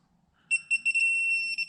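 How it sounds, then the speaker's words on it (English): A digital torque wrench tightening cylinder-head bolts on a 2012 Hemi 1500 long block gives a few rapid close beeps, then one sustained solid beep once it reaches the set value. "You'll get a rapid beep, and then it'll go solid beep once we hit the value that we're looking for."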